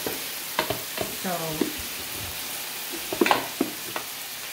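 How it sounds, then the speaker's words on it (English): Pancit canton noodles are stir-fried and mixed in a pan, a soft sizzle under intermittent scraping and clinking of the utensil, close by. "The noodle Kai is mixing there"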